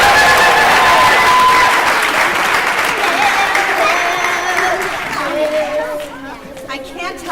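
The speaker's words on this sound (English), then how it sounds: "one more round of applause" An audience at a school Colonial Festival performance gives another round of applause. Loud, sustained clapping mixed with crowd chatter tapers off over the final seconds.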